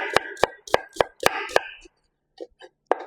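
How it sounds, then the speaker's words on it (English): Knife chopping an onion on a board gives six sharp, evenly spaced close strikes, followed by a pause and a few softer cuts. "Now I'm going to cut the onions."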